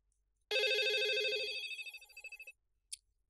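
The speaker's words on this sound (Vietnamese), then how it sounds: "Gọi gì mà gọi hoài không biết à." A telephone rings indoors in a bright electronic trill lasting about two seconds, loud and alone, followed by a brief faint beep after a pause.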